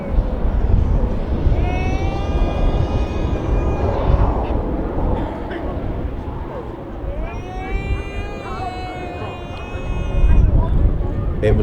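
An Avro Vulcan bomber flies past at an airshow in Scotland with its bomb doors open, its engines giving a loud sustained roar with rising and falling whine while a commentator talks over it.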